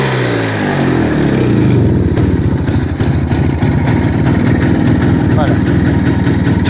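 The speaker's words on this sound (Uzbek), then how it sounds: "Hozir gaz berib ko'raman. Motorlarga ham quloq solib ko'rasiz aka." A used motorcycle for sale in Oltariq, Fergana runs close and loud, its engine idling with a steady mid-pitched chug that rises slightly as the throttle is opened, continuous throughout.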